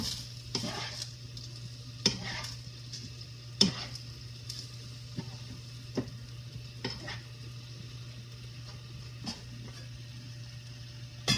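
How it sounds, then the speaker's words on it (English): Meat sauce being stirred in a pan on the stove, ground meat sizzling softly while a utensil scrapes through it in intermittent strokes over a steady low hum, with no talking. "just mix that around the meat"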